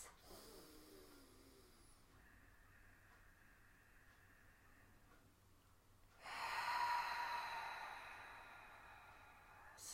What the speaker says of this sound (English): let's just take 3 big, slow breaths